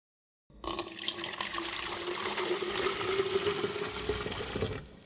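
Water runs steadily from a tap into an empty jar or bottle, a continuous close splashing flow that starts abruptly and holds for about four seconds with no talking.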